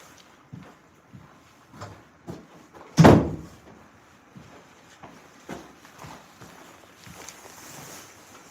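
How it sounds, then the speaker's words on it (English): A door is shut with a single sharp, loud slam partway through, surrounded by quieter knocks and room noise. "Let me close this door."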